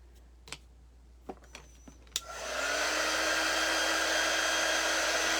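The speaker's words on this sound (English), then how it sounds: "I'm going to dry this real quick, and then we'll do the next coat." A few light clicks come first, then a hair dryer switches on to dry a coat of chalk paint on a craft piece, settling into a loud, steady whir up close.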